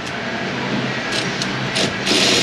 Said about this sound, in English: Steering shaft clickage.